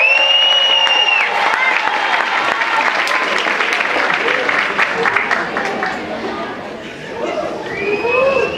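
An audience at a diocesan dance showcase awards ceremony applauds and cheers for a dance group, with whistles and shouts over the clapping; a loud, lively crowd that dips briefly and then swells again.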